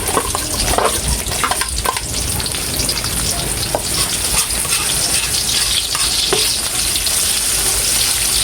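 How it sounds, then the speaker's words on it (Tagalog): Chopped onion sizzles and fries steadily in a hot pan, a dense continuous crackle with occasional stirring scrapes, loud and close with no talking. "Malilagay na rin po natin itong ating sibuyas."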